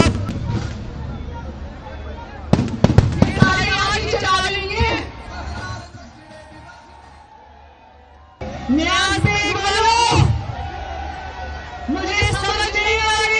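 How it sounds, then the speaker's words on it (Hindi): Fireworks bang and crackle at a crowded outdoor political rally in Pakistan, with sharp bursts standing out over a steady roar of crowd hubbub and chatter, fading briefly before the noisy din returns. "यही आतिशबाजी बंद करें"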